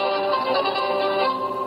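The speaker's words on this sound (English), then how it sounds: "Let's listen to the buoys in the Indian Ocean." Indian Ocean buoy readings turned into sound: a dense, sustained electronic chord of many pitched tones, steady and loud for under two seconds with no talking.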